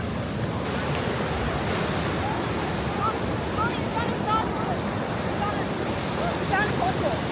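Ocean waves wash continuously onto a beach in a broad, steady roar of surf. Faint higher voices or calls drift in briefly over the rushing water.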